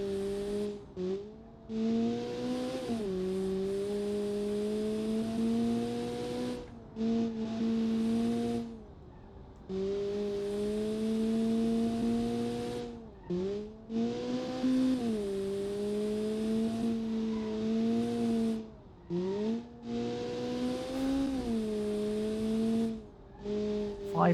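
A simulated turbocharged 500cc four-cylinder rear-wheel-drive car in the game Automation revs hard through repeated rising pulls, each a loud buzzing tone climbing in pitch before dropping off briefly between gears, with no talking.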